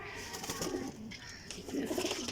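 Teddy pigeons cooing close by in a loft, soft repeated throaty coos rolling over each other with faint background rustle, no talk.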